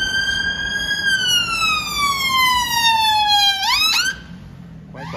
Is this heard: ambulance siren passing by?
yes